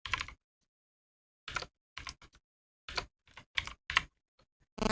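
Bursts of keystrokes typed on a computer keyboard while entering an ID and event name, arriving in short clusters separated by silent pauses, close and crisp.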